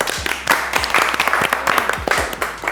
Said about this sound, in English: Let's give the chef a round of applause.